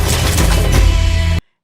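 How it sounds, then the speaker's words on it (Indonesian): Dense, continuous loud blasts that could be rapid gunfire, a sustained barrage lasting over a second before cutting off abruptly into silence. "Walter langsung menembak saat melihat keberadaan Ben dan Amy"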